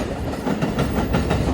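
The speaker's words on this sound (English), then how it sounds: "Train." A passenger train rolls past in the Rockaways, New York, with a steady dense roar of wheels and rhythmic clickety-clack on the rails, loud and close throughout with no voices.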